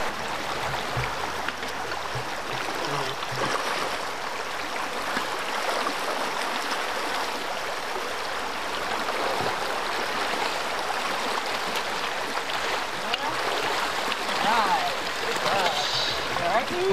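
River water flowing steadily during a snorkeling survey for eastern hellbenders, a continuous close rush and burble filling the whole stretch, with someone talking over it.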